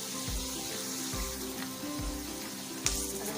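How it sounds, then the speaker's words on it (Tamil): Onions sautéing in a pan for chicken biryani, a steady close sizzle of frying with faint scraping stir clicks over it. "வெங்காயம் நல்லா வதங்கணும்."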